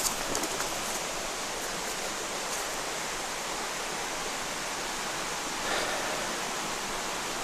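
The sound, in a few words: stream at a hiking water crossing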